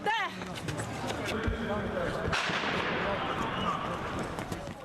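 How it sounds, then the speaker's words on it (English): Sharp gunfire bangs and cracks ring out in Kyiv amid a chaotic, noisy background, with a voice talking over parts of it. "This morning, Kiev again awoke to the sound of gunfire."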